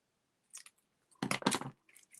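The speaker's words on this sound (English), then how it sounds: "So I'm going to trim about 1/4 of an inch off the branch." Paper branch for a handmade thank-you card trimmed with scissors: a couple of light snips, then a louder, close crisp cut lasting about half a second, followed by faint rustling.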